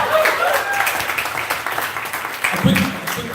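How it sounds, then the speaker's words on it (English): An audience at a Startup Grind Toronto entrepreneurs event applauds, a steady wash of clapping that carries through the whole moment, loud and close, with no talking over it. "Round of applause for Scott."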